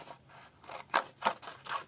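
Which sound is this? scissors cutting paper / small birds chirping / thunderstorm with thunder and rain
scissors cutting paper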